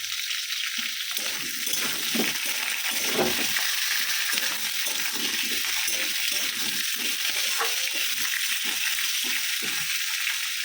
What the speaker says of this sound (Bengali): আলুটাও ভেজে নেবো।